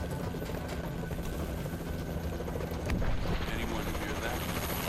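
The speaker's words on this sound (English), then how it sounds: "Anyone hear that? Where's the helicopter?" A helicopter in Call of Duty: Advanced Warfare Exo Zombies drones steadily with a constant rotor thrum through the whole stretch, swelling slightly near the end.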